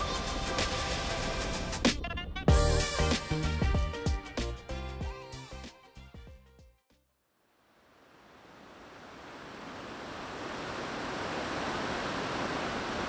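Rushing water from Jiktang Falls on the Hantan River in Cheorwon, South Korea, fills the later part as a steady broadband roar, after a jumble of clattering handling noises and a brief silence.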